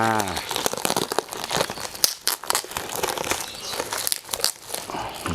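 Packaging around a mail-order plant crinkles and tears loudly and continuously at close range, plastic and paper rustling in bursts, with someone talking over it.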